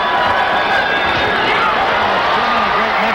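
A boxing crowd roars at the Olympic Auditorium during a De La Hoya bout, a dense, steady wall of cheering and shouting that swells continuously with no pauses.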